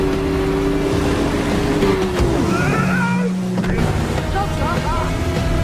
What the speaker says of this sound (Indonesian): Ben yang tahu memilih untuk menabrak Dalton